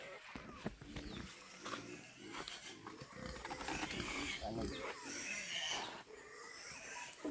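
Domestic pigs grunting and squealing continuously at close range on a farm, with a person talking over them throughout.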